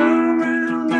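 Slide playing on a 3-string cigar box guitar with a twangy, buzzy tone, gliding between notes in a short continuous phrase, close and fairly loud.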